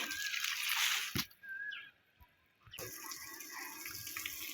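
Water pumped onto a vegetable plot streams and splashes steadily, loud and close, with a brief lull in the middle before the flow resumes.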